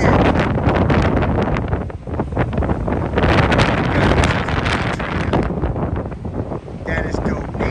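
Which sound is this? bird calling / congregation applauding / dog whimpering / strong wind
strong wind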